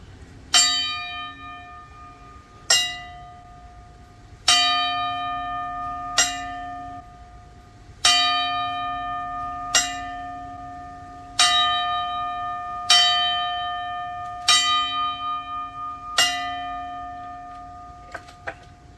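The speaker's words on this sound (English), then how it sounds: "quick 10 bell salute for Tim." A church bell tolls a ten-bell salute, slow single strikes every couple of seconds, each ringing out and fading before the next, clear and prominent with a faint ticking underneath.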